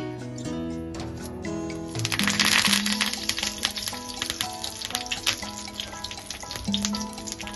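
Curry leaves dropped into hot oil for tomato chutney, a bright crackling sizzle that swells sharply after two seconds and keeps spitting and popping close by, no talking.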